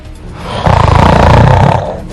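A person snores once, loudly and close, in a long rattling inhaled snore lasting over a second that swells and then fades.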